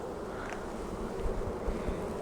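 Honeybees buzz steadily in a full spring hive while frames are inspected, a close, even drone with faint wind rustle and no voices.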